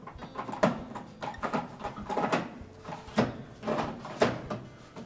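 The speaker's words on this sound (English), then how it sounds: "and then reinstall the detergent drawer." A plastic detergent drawer is slid back into a Whirlpool washing machine during a door bellow repair, with a series of clunks, scrapes and clicks spread irregularly over several seconds at close range.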